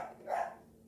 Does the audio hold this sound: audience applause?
no